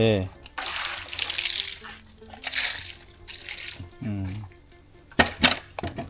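Water runs in hissing bursts during washing and rinsing outdoors. A person speaks between and over the flowing water.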